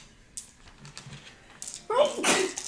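During a tabletop dice game session, a person sneezes with a sudden burst near the end, after quiet rustling and clicks, with a voice speaking briefly around it.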